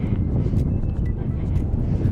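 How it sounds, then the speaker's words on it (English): Strong mountain wind near Pic dels Llacs in Andorra, about 2,700 m, roars and buffets against the microphone, a constant heavy low rumble with no clear pauses. "Oh, it's so windy, y'all."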